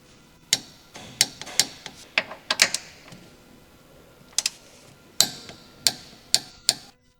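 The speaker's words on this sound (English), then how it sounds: "Use a 14mm deep socket with a torque wrench to torque the mounting bolt of the lower control arm rear bushing to 75 Newton meters or 55 foot-pounds" A torque wrench with a 14mm deep socket tightens the lower control arm rear bushing bolt on a 2007 Honda CR-V, giving about a dozen sharp, close mechanical clicks in uneven bursts, with no talking.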